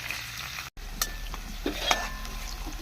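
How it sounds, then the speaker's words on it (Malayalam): Crushed shallots fry in hot coconut oil with a low sizzle, punctuated by light clinks and scrapes of a spoon against the pan. "വെളിച്ചെണ്ണ ചൂടായിട്ട് നമുക്ക് ചതച്ച് ഉള്ളി ഇട്ട് കൊടുക്കാം."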